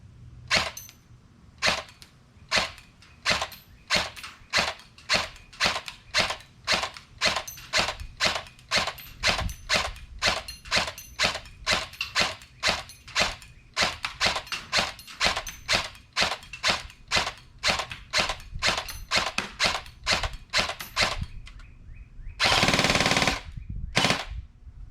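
An LCT LC-3 AR-style airsoft electric gun fires BBs in a long series of sharp, close semi-automatic shots at an uneven rhythm, ending with a brief burst of mechanical whirring.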